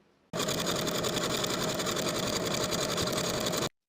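A sewing machine stitches a belt seam along a short edge, a single unbroken burst of fast, even whirring that starts abruptly and stops cleanly a few seconds later.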